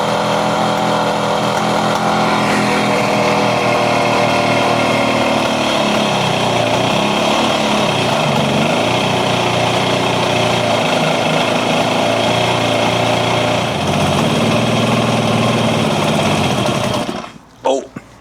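Kawasaki KH250 two-stroke motorcycle engine running unevenly just above idle, a loud, buzzy, continuous drone close by that holds steady for a long stretch before cutting out abruptly near the end.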